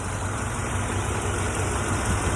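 The engine of a 1991 Chevrolet Caprice idles in a steady low rumble, close and even throughout the short stretch, with no voices.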